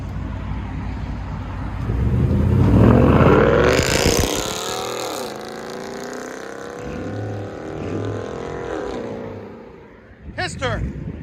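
A 2012 Ford Mustang GT 5.0 with Flowmaster Outlaw exhaust and 4-inch tips roars and revs loudly up close, swelling then settling into a rumbling idle, with a short burst near the end.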